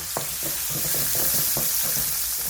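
Meat frying with garlic and ginger in a hot pan, a constant loud sizzle broken by several quick utensil scrapes and stirring knocks, close by and without speech.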